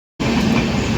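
A passenger train rumbles loudly along the rails, the steady roar and rattle cutting in abruptly from silence and continuing without pause.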